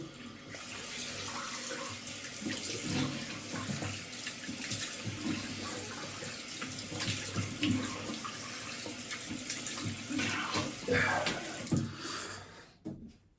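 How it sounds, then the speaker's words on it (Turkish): Tap water runs steadily into a bathroom sink while someone washes their face after shaving, a continuous close splashing stream with small splashes from hands, fading out at the end. "şimdi yüzümü yine yıkıyorum"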